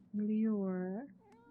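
A cat in the Life is Strange video game gives one drawn-out, clear meow lasting about a second, close and alone, followed by a faint short click.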